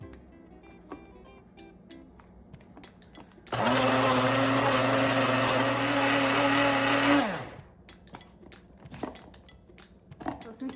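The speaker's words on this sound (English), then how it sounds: "So I'm adding 1 teaspoon of sesame oil, and we are going to go ahead and blend it." A countertop blender whirs loudly for about four seconds, blending a sauce of maple syrup and sesame oil. It starts abruptly and winds down at the end, with quiet kitchen clinks and clatter before and after.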